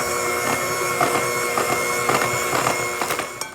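An electric mixer running at slow speed blends flour and baking powder for a tart dough, producing a steady mechanical whir with regular light rhythmic knocks, continuous and close.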